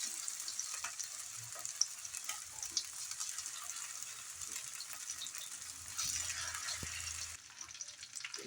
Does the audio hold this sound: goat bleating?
no